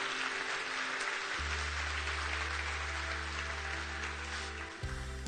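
Audience applause after a conference talk on opera and programming, a steady, full round of clapping from a sizable crowd over a low hum, easing slightly toward the end.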